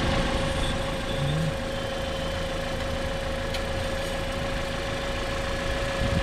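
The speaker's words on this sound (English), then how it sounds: "So I'm going to be starting up the vehicle." A 2009 Toyota Corolla engine idles close by with a steady, even mechanical hum and faint vibration. It runs unbroken throughout, with no start-up crank audible.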